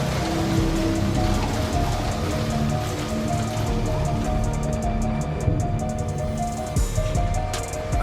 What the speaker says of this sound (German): wie der Regen auf das Visier peitscht